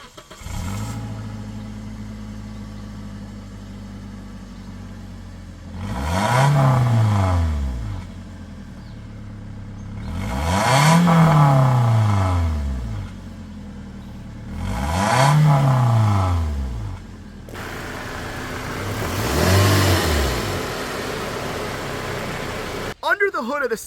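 Four distinct revs from a Scion xD's 1.8 liter four-cylinder engine, each swelling up and falling back to a steady idle, spaced about five seconds apart and heard close and fairly loud.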